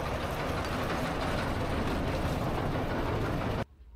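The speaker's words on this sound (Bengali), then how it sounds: "আমরা সিঁড়ি ভেঙে নিচে নেমে মিনি ট্রেনে করে চলে এলাম জেটিতে" The mini train at Elephanta Caves rumbles toward the jetty, a loud continuous roar of engine and wheels that cuts off abruptly near the end.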